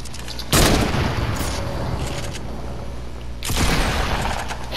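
Gunfire in the video game Fortnite: two loud bursts of close shots, one early and one near the end, each fading into a rumbling tail, with quieter crackles in between.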